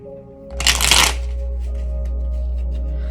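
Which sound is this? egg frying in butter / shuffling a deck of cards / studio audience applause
shuffling a deck of cards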